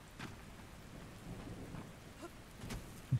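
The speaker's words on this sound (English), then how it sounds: "Oh, it's raining." Rain and rolling thunder in the Ark Survival game, a steady wash of rainfall with low rumbles swelling and fading throughout, and a sharper thunder crack right at the end; no one talks.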